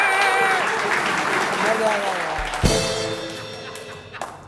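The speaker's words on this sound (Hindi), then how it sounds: "ताली बजाओ ताली, तब तक शांति से।" Audience applause and cheering at a stand-up comedy show fill the space, a steady wash of clapping with a voice speaking over it, then a sharp thump partway through.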